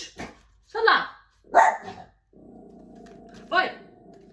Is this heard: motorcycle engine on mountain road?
no